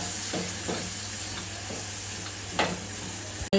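Drumstick leaf thoran is stirred and cooked in a pan, with a steady sizzle and a few scraping strokes of the spoon, ending in a sudden loud clatter.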